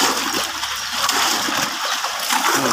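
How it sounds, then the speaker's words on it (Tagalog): Heavy rain pours down in a steady, continuous hiss of splashing water, loud and close throughout with no break. "Bigla bumuhos yung ulan"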